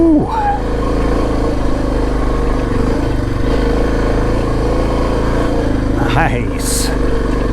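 A Suzuki DR650 dual-sport motorcycle engine drones steadily under load while climbing a steep, sandy mountain trail on fresh Tusk D Sports tires, loud and close, with a rider talking and exclaiming over it.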